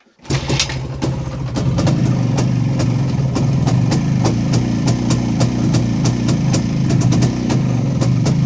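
A Minsk 262 motorcycle engine idles at very low revs, a steady close, loud, even putter with rapid regular firing pulses and sharp ticks running throughout, no voices over it.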